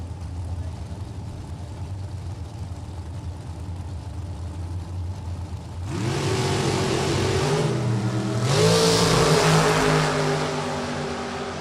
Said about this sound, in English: Dragster here on the left side.